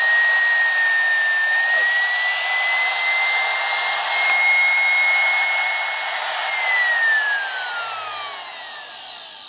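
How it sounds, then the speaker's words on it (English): An old vacuum motor with shorted armature windings runs on 24 V DC applied only to the rotor brushes, producing a steady airy roar with a whining tone that rises, holds, then slides down as it slows. "There it is, vacuum motor."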